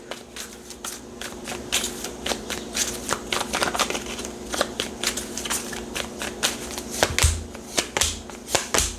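Tarot cards are shuffled in a rapid series of crisp riffling bursts and soft slaps, close and fairly loud, with no talk.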